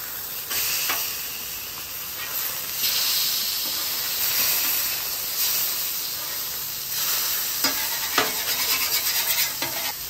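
Pineapple and sugar sizzle and hiss on a hot griddle while being stirred, a steady close frying crackle with steamy bursts and occasional scraping throughout.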